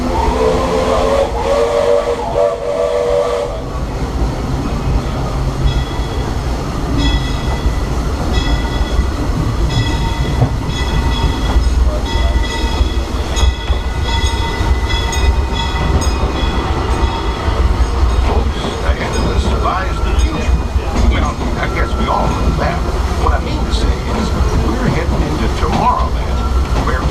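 Disneyland steam train on the Grand Circle Tour rolling steadily along its rails, a constant loud rumble and clatter with hissing steam and brief whistle tones, continuing throughout with faint talk underneath.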